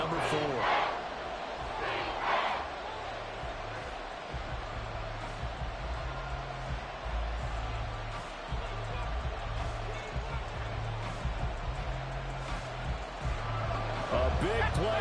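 A football stadium crowd at a Browns–Texans game late in the fourth quarter keeps up a broad, steady roar for the whole stretch, with a commentator talking over it throughout.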